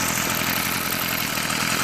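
A Craftsman 18-inch 23cc gas hedge trimmer idles after a carburetor cleaning and fuel line repair, its small two-stroke engine giving a steady, loud buzzing drone close to the microphone.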